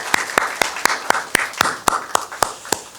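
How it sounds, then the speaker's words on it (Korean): A church congregation claps at a Sunday worship service, about a dozen sharp, evenly spaced claps in a steady rhythm, moderately close, with no talk over them. "하나님께 영광의 박수 드려드리겠습니다."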